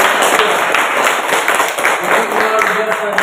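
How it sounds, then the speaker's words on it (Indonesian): Classroom of students applauding a group presentation during a teacher's assessment lesson: loud, dense, continuous clapping from many hands close by, with sharper individual claps standing out, steady to the end. "tepuk tangan untuk"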